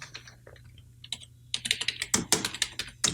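Keystrokes on a computer keyboard while text is entered, starting as sparse light taps and then speeding into a dense run of sharp, close clicks.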